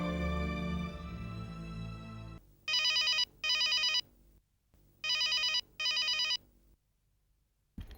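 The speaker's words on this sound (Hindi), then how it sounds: "हाँ शर्मिली, मैंने इसलिए फ़ोन किया था" A telephone rings in two paired bursts of bright trilling bells with a silent gap between them. A louder stretch of other sound comes before the rings, and no one speaks.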